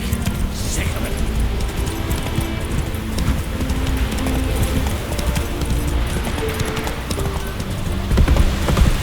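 Roach the horse galloping in The Witcher 3, rapid rhythmic hoofbeats close and loud, with a voice speaking over the running.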